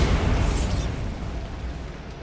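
A Bombarda spell goes off in Hogwarts Legacy: a single loud, close, low blast that rumbles and slowly fades over about two seconds.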